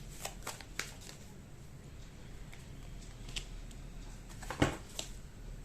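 Tarot cards being shuffled in a quiet room: a few faint, brief riffles and snaps scattered over several seconds, with one sharper flick near the end and no talking.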